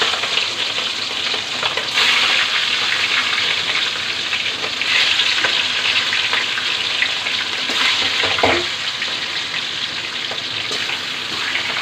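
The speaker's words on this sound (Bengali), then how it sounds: "আমি কড়াইতে তেল বসিয়ে দিয়েছি। তেলটা আমার গরম হয়েছে। এখন চিকেনটা দিয়ে দিব।" Chicken pieces fry in hot oil in a wok, giving a constant loud sizzle and crackle with brief stirring scrapes and no talking.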